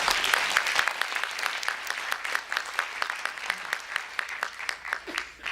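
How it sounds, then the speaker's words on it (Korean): An audience claps for two honored guests at a formal ceremony, a continuous ripple of applause with distinct individual claps standing out, easing off toward the end. "두 분 크게 박수 쳐주시기 바랍니다."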